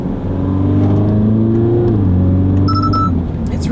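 A 2018 Mini Cooper SD Clubman engine drones steadily from inside the cabin while cruising at about 2,000 rpm on a UK road, with a low rumble that eases slightly partway through and a brief chime near the end.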